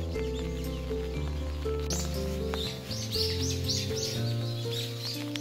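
Birds chirp in repeated short bursts in a camellia forest at the Okryongsa temple site in Gwangyang, clear but set against a dense, steady background of music.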